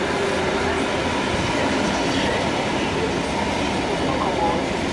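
An Intercity passenger train at Łowicz Główny station in Poland, with a steady broadband rumble of rolling wheels and rail noise that stays loud and even throughout.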